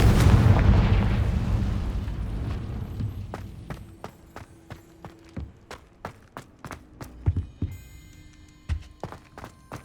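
A Confringo spell blast in the Hogwarts Legacy video game lands as a big, loud explosion that slowly fades. It is followed by a scattered series of sharp, crackling impacts and pops at varying loudness.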